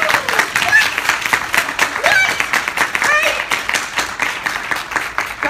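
An audience at a national alumni professional networking conference claps steadily, a broad even wash of applause with a few voices calling out over it.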